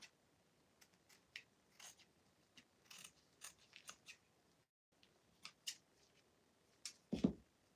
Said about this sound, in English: I'm just going to cut off that excess